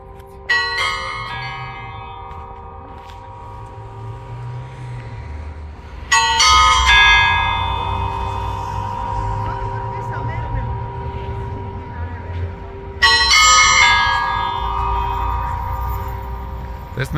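Bells at Astvatsatsin church in Vardenis, Armenia, sound three clear strikes roughly six seconds apart, each ringing out and slowly decaying over a faint low background rumble.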